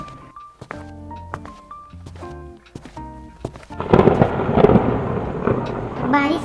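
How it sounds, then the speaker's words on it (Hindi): Heavy rain and thunder in the Sakura School Simulator game: a few seconds of plinking tonal notes give way to a loud, dense wash of pouring rain with low rumbling underneath. "बारिश तेज हो रही है"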